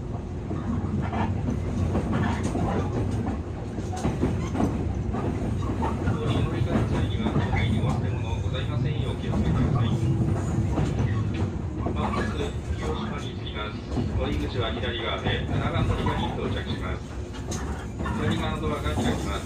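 A JR West 113 series train, set P-05, runs on the Kabe and Kure lines, recorded from the floor: a steady low rumble of motors and wheels with rhythmic rail clatter, continuous and close throughout.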